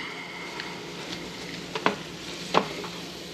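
Paella with saffron, salt and pepper is stirred in a pan, a soft background sizzle broken by a few sharp scraping strokes of the spoon near the end.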